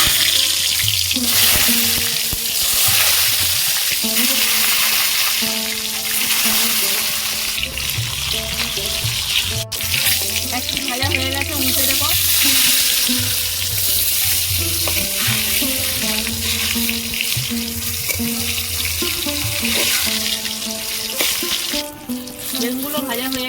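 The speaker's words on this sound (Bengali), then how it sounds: "এবার আমি বেগুনগুলো ভেজে নেব" Eggplant slices fry in hot oil with a loud, dense sizzle that runs steadily throughout, punctuated by clinks and scrapes of a utensil turning the pieces.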